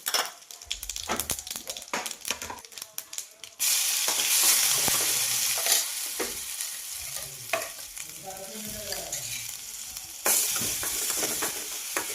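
Curry leaves, cumin and mustard seeds crackle and sizzle loudly in hot oil while tempering for a village-style buttermilk kadhi, with a sharp burst of spattering after a few seconds and steady frying with occasional stirring clatter throughout.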